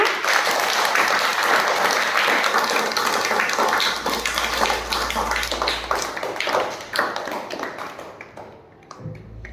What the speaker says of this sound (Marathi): शिवासाठी जोरात टाळ्या